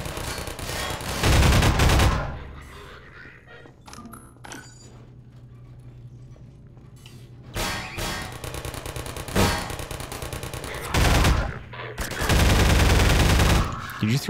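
Soldiers firing guns in Half-Life 2, with loud bursts of automatic gunfire at the start and end. Quieter stretches in between carry scattered shots and game sounds.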